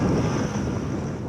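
Sea surf and strong wind roar during a lifeboat launch on a high tide, a loud continuous rushing wash with wind buffeting the microphone, steady and unbroken.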